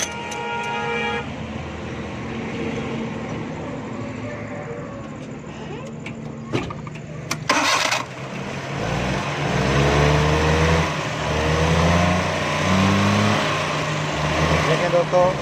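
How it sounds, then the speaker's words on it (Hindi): A car engine cranks and starts after a repair for oil leaking into a spark plug well, then settles into a steady, rumbling idle; a brief horn-like tone and people talking are heard before the start. "गाड़ी स्टार्ट करें जी।"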